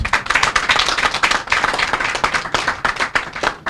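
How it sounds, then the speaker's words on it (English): Steady, energetic applause from a crowd, continuous clapping that stays loud throughout with no pauses. "the Honorable Minister deserves a better round of applause"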